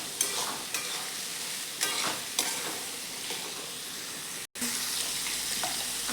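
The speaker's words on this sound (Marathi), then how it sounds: "हे सगळं चांगलं व्यवस्थित मिक्स करून घ्यायचे" Green peas and paneer being stirred in an oiled pan, a soft ongoing sizzle broken by several distinct spoon scrapes and knocks, close by with no voices.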